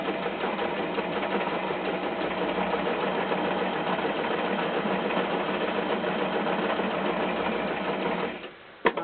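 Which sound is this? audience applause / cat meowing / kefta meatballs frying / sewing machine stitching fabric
sewing machine stitching fabric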